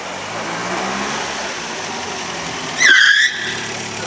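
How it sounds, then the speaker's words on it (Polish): A 1936 Mercedes 170 VA cabriolet rolls past at a veterans' car rally, its engine a steady moderate rumble with a brief louder rush near the end as it passes close. "Mercedes Cabriolet 170 VA 36 rok."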